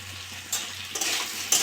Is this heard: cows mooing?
no